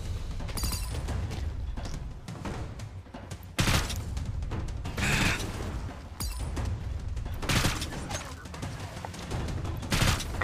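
Rapid gunfire in the video game Seeking Dawn rattles in repeated bursts, mixed with heavy impacts and booms, loud and continuous throughout.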